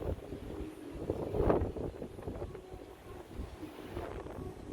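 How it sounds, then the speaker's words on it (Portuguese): Strong wind blows at the river port of Manaus, rushing and buffeting the microphone in a continuous rumble with gusty swells, loud and close, and no voices. "Que tá ventando muito,"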